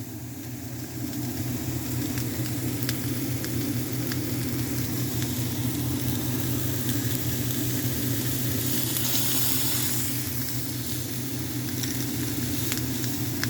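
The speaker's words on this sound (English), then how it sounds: "Listen to these patties sizzle." Steady, continuous sizzling of hamburger patties cooking medium rare on a hot grill, with a constant crackling hiss and a low hum underneath, no talking.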